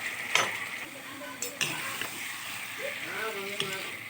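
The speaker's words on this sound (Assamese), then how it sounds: "মই মাংসখিনি অলপ সময় ভাজি থাকিম" Broiler chicken meat frying in a pan, a steady soft sizzle with occasional clinks of a utensil against the pan.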